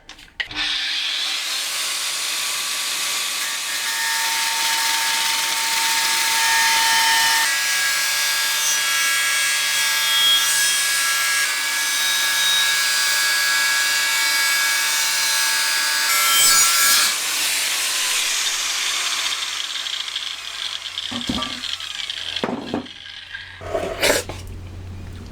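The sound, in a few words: angle grinder cutting the top off a steel gas bottle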